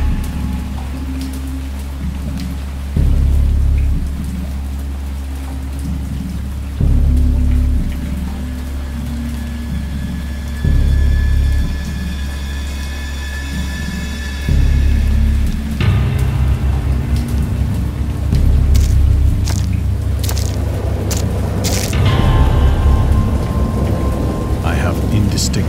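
A thunderstorm with heavy rain pouring steadily, broken by several loud rolling peals of thunder, each a deep rumble rising and fading, building to a dense, crackling downpour near the end.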